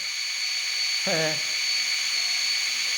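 An electric drill spins a small Smaraad S3 wind turbine, giving a steady high whine with a low hum beneath it and a brief voice-like tone partway through.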